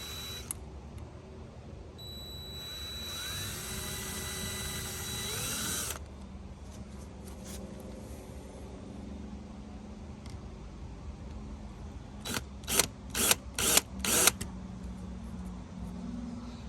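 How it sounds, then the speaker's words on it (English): Power drill boring through the metal frame of a hybrid camper during a bunk end repair, a rising whine that runs for several seconds, then a quiet stretch before a burst of short, loud mechanical pulses. "when I drill through the metal, I don't bust through and grab the canvas or grab a seal"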